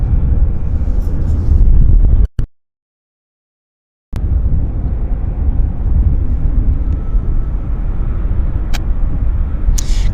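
Korean Air airliner at Vancouver airport, a loud, broad rumble close by, cut off by a silent gap of about two seconds before the roar resumes steadily.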